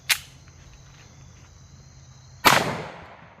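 A 10mm Grizzly 180gr JHP round fired over a chronograph: a sharp crack, then a louder, closer report about two seconds later whose echo trails away.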